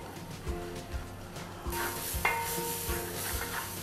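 Spices—coriander, turmeric, chilli powder and garam masala—roast with onions in a pan for a beef biryani, giving a soft steady sizzle broken by several scraping stirs and one sharp clink of utensil on metal.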